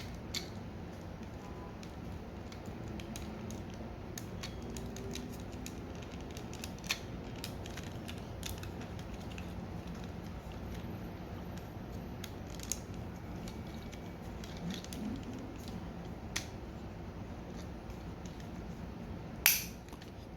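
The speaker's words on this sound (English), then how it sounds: "Click those into place." Plastic parts of a Transformers Studio Series 86-23 Voyager Autobot Ratchet action figure snap together with faint, sparse clicks over a quiet background hiss, ending in one sharper, louder click.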